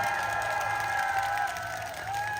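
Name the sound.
audience applause at a concert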